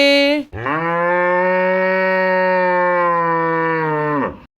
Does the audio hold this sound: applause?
no